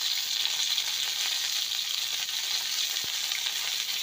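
Cauliflower and potatoes fry in a pan with salt and turmeric while being stirred, producing a dense, steady hiss of sizzling oil with one faint tap of the spoon.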